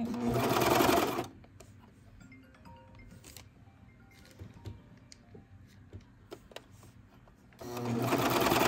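A Brother 2340CV cover stitch machine fitted with a binder sews in two loud, fast bursts at the start and end, with quiet handling clicks and rustling between them.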